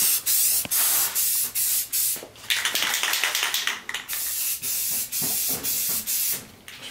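Aerosol spray can laying down a light coat of paint in a series of short, close bursts of hiss with brief gaps between them, with no one talking.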